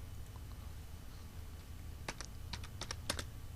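A few light keystrokes on a computer keyboard, faint and close against a quiet room hum, clustered in a short, irregular burst near the end.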